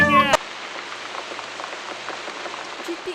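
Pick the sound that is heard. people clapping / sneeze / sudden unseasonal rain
sudden unseasonal rain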